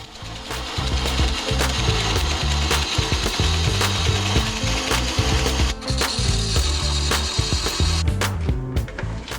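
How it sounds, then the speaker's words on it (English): Bowl gouge cutting an epoxy resin blank spinning on a wood lathe, a loud continuous rough chattering and scraping with a rapid rhythmic knocking as the tool catches the uneven, out-of-round resin surface throughout. "So instead, to get it round, I'm using my bowl gouge."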